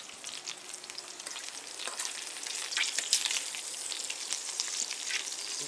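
Bacon frying in hot grease gives off a steady, dense crackle and sizzle with rapid pops that swell a little midway, close up and with no voices.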